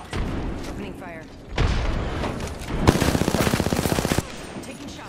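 Automatic weapon fire in Apex Legends rattles in a rapid, evenly spaced burst of loud close shots after a heavier thump, over game ambience and brief voice chatter.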